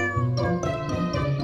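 Cartoon cat meows loudly and close up in a short, drawn-out call with a rising and falling tone, standing alone without any talk.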